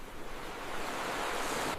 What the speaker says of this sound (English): The ocean passes by, calm, steady, and endless.